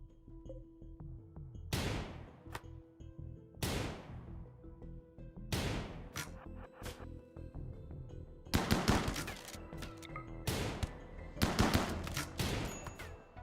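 Rapid bursts of automatic gunfire and single sharp shots in a game firefight, several clustered volleys separated by short pauses, crisp and close with decaying echoes.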